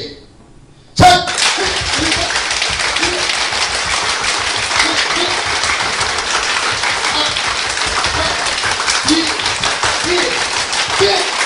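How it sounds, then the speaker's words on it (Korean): A church audience at a laughter-therapy session claps as fast as possible in a timed clapping game, a dense, loud, continuous roar of rapid hand claps that starts abruptly and holds for about ten seconds. "사실은 이게 박수 게임이지만 스트레스를 해소하는 운동입니다."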